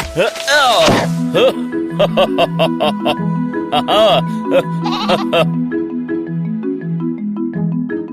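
A sheep in a Hindi animated moral story gives a few loud, wavering bleats near the start and in the middle, over a rhythmic drum-and-tune backing track.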